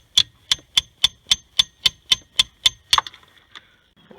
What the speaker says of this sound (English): grab a hammer, break it free.